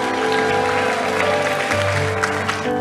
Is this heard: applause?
yes